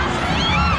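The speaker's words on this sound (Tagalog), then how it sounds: "Sigawan pa rin hanggang ngayon mga kaibigan" Grand parade crowd on Quezon Avenue in Lucena at Pasayahan 2024, a dense, loud roar of shouting and cheering throughout, with no breaks.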